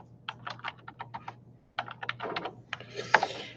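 Computer keyboard typing at close range, two quick runs of clattering keystrokes separated by a short pause, over a steady low hum.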